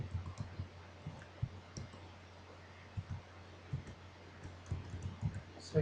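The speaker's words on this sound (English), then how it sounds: "So let me type now the rest of the TD." Soft keys on a computer keyboard click in quick, irregular bursts over a steady low hum, quiet and close.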